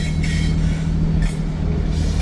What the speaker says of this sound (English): Got a train. Just came out of Randville,